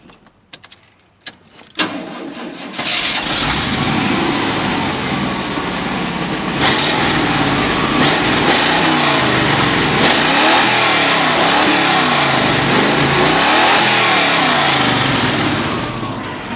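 Keys jingle briefly before an 87 Chevy R10 pickup with longtube headers, true dual exhaust and Thrush turbo mufflers starts up and runs nearby, its engine rumbling and rising and falling through several light revs.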